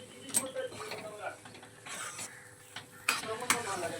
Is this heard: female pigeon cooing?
no